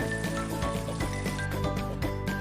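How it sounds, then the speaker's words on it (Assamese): Pieces of fish rubbed with salt and turmeric fry in hot oil in a wok, giving a continuous close sizzle with small crackles throughout. "এয়া মই নিমখ হালধি সানি লোৱা মাছখিনি ফ্ৰাই কৰিবলৈ লৈছোঁ।"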